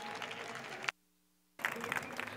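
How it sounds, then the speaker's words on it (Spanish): Audience applause at a conference talk about growing sales with PayPal comes through as faint, dense clapping, broken by a short gap of near silence before resuming. "Tenemos a Brian y a Cristian, a quien les pido un muy fuerte aplauso y vamos a dar comienzo."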